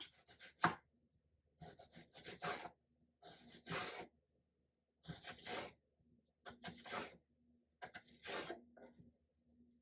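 Ripe peaches being sliced with a knife on a board: six quick, crisp cutting strokes in separate bursts with short pauses between, close and fairly loud, no voices.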